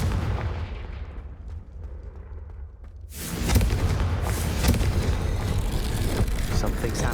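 A Confringo fire spell in the Hogwarts Legacy video game, a sudden loud blast that erupts into sustained roaring, crackling rumble after a stretch of lower ambient noise.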